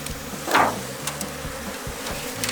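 Honey bees swarm around a crowded beehive where a honey super has just been added. A dense, continuous buzz swells as one insect passes close, and a few soft knocks sound beneath it.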